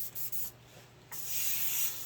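An airbrush spraying paint, a soft airy hiss that starts and stops in short bursts, then swells into a longer, steadier spray near the end.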